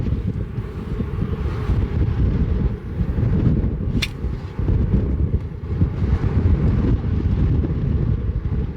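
Strong wind on a golf course buffets the microphone in a constant low roar with gusty swells throughout, loud and close, with a brief sharp click partway through.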